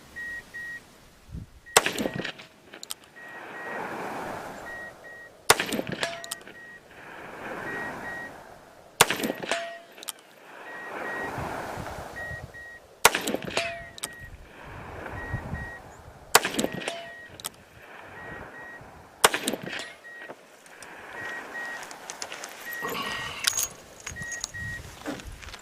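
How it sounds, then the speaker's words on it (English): A pistol fired outdoors in a slow, evenly spaced series of about seven sharp, loud reports, each trailed by a ringing metallic clang, with quiet gaps in between. "This is a pleasure to shoot this pistol."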